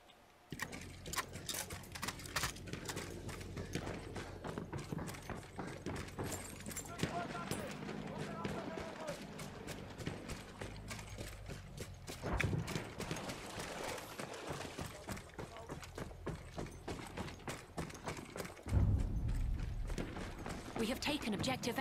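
Hooves galloping in a video game, a fast, steady patter of hoofbeats running almost continuously beneath near-constant talking, with a couple of louder thumps partway through.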